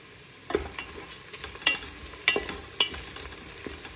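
Whole spices and a bay leaf fry in hot oil in a pan for chicken pulao, giving a quiet sizzle broken by several sharp pops and crackles, with no talking.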